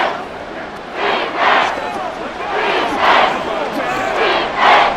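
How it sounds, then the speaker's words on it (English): A packed stadium crowd in Madden NFL 24 roars during a Giants versus Saints game, swelling in repeated loud surges that rise and fall over a few seconds, with a commentator's voice in the background. "This crowd turning up the decibel level."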